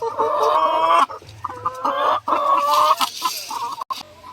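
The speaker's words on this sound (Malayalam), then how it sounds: "അപ്പം നമുക്ക് ആ കോഴിയുടെ അടുത്തേക്ക് പോകാം" A hen clucks in its coop, with repeated close, loud clucks and short squawking calls and no voices.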